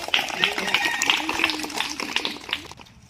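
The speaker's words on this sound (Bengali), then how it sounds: "হাততালি হাততালি হাততালি" Hands clap in a quick, regular rhythm at an ashram in Susunia, the claps mixed with voices before a brief fade into quiet.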